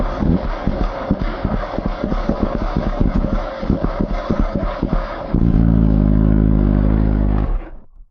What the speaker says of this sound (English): We'll listen to the sound in neutral, as this bike isn't de-restricted.